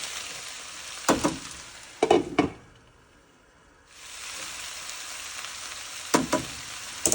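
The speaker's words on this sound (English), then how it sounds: "we're going to give this a stir and get this stuff mixed up" Cabbage and sausage fry in a pot with a constant sizzle. Bursts of scraping and clattering come as the mix is stirred, with a quieter stretch in the middle.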